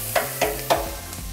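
Celery and carrots sautéing on a Vulcan chef station: a steady sizzle broken by three quick scraping stirs in close succession, near and moderately loud with no voices.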